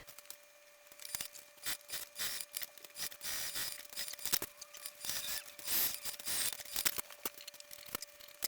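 Fabric overhang on a sewn zipper pocket for a bag being trimmed with scissors, a quiet run of irregular crisp snips and rustles, close by, no talking.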